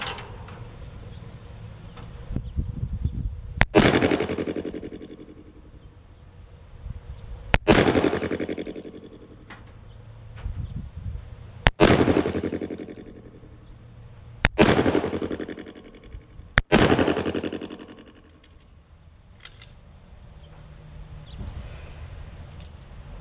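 Five loud .357 Magnum revolver shots from a 6-inch barrel Model 28, each a sharp crack with a long ringing outdoor decay, spaced a few seconds apart.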